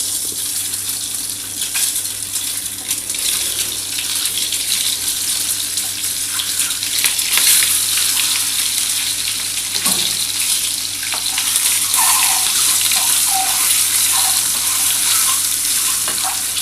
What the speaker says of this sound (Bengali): আমি ডিমটা প্রথমে ভেজে নিচ্ছি